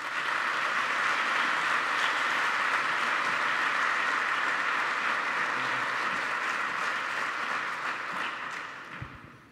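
An audience at a university commemorative ceremony applauds with loud, dense, sustained clapping that fills the hall for several seconds before tapering off at the end.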